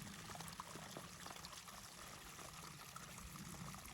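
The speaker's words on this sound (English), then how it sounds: "Here's one of many of the springs that are coming out of the hillside." Spring water gushing out of a hillside beside the Appalachian Trail, a steady close-up pouring and burbling stream heard alone without any voices.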